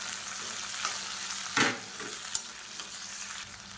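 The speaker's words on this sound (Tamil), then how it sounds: "மீடியம் சைஸாக ஒரு 2 தக்காளி சேர்த்துக்கலாம். சேர்த்துட்டு இதையும் நல்லா வதக்கிக்கலாம்." Onions and two medium tomatoes sautéing in a pan, a soft continuous sizzle broken by a couple of sharp spoon scrapes and clacks, with no speech.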